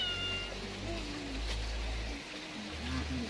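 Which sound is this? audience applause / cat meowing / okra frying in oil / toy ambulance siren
cat meowing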